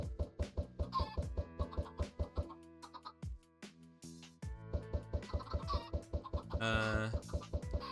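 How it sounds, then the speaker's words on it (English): A large flock of chickens clucking in Minecraft, with rapid overlapping clucks in an uneven rhythm, fairly close, pausing briefly midway before resuming busily. "that's a lot of chickens all of a sudden"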